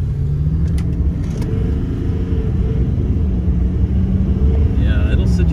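A stock, emissions-compliant Cummins diesel truck fitted with compound turbos pulls hard under acceleration. The heavy rumble holds steady while a rising whine climbs near the end, with faint voices beneath.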